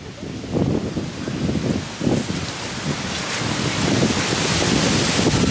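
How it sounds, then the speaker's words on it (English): Strong, cold wind buffeting and rumbling across the microphone in uneven gusts at Disney's Animal Kingdom, Orlando, with a hissing outdoor roar throughout. "It's so windy, it's so cold."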